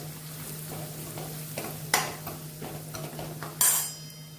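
A spoon scrapes and clinks against a pan in scattered strokes, mixing garam masala and red chilli powder, over a low steady hum, with a couple of sharper metallic knocks.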